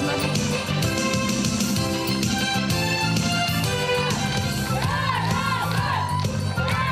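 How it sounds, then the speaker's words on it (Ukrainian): An audience at a City Day award ceremony greets honorees with loud, sustained crowd cheering and shouts, mixed with prominent music playing throughout. "Зустрічаємо оплесками."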